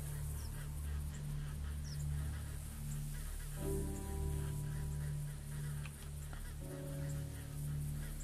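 Geese honk repeatedly at moderate distance in a hunting video game, their calls rising over a steady low ambient rumble, with a cluster of overlapping honks midway and again near the end.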